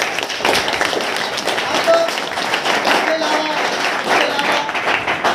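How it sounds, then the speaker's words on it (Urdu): Students and staff applaud a teacher at a 10th-class farewell party in a government high school, a loud, close burst of hand clapping with sharp claps and a voice speaking over it. "تو یقیناً آپ بھرپور تالیاں بجائیں"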